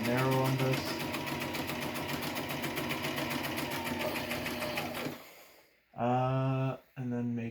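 A sewing machine stitches a narrow seam on a fabric face mask, running steadily and close for about five seconds before winding down, followed by a person speaking.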